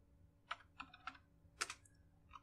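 Typing on a computer keyboard while entering MATLAB code: a few sharp, close key clicks in quick bursts over a quiet background.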